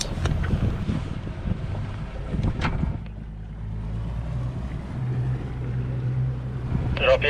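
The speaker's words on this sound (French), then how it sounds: "Les 55 milles sont parcourus sur une mer avec juste ce qu'il faut de vagues pour que nous ne nous sentions pas sur un lac, mais bien en mer Baltique" A sailboat under way on the Baltic Sea in moderate waves, with a continuous wind and water rush, low hull and engine hum, scattered splashes and knocks, and brief voices near the end.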